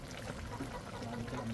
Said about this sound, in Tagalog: Yung tubig lang nilagay ko dito.